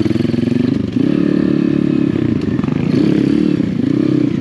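Apollo Chinese dirt bike on a hard enduro ride, its small engine buzzing loud and close, rising and falling as the throttle is worked, with clatter and knocks from rough ground.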